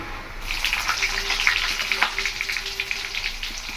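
Green chilies, cumin, fennel and coriander seeds frying in hot oil for puri masala give a steady, loud sizzle with crackling pops, close up and continuous without speech.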